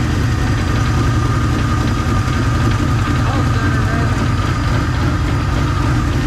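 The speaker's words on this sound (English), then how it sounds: "Let's hear the exhaust." A Ford Mustang GT with a cammed 2V engine idles loudly up close, its exhaust giving a steady, throbbing rumble with a faint knocking texture.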